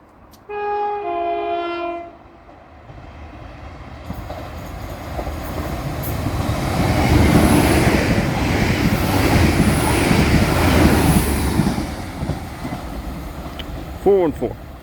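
A train rolls past a railway level crossing with a loud horn blast at the start, then a long swelling rumble and clatter of wagons passing close by that fades near the end, with a brief squeal.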